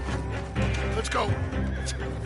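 A horse in the video game Red Dead Redemption 2 whinnies loudly with a rising-and-falling squeal, accompanied by hoof clops and a voice speaking over it.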